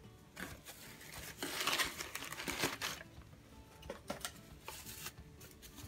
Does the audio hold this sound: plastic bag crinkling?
yes